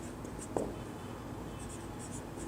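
Chalk or marker writing on a board during a Bengali-language higher-secondary math lecture on circles, a faint steady scratch with one brief tap, heard close over a low room hiss with no talk.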